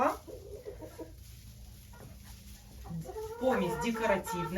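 A rooster bred from a silkie hen and a Marans rooster gives a harmonic crowing or clucking call near the end, over low barnyard hum and murmuring that sounds like speech.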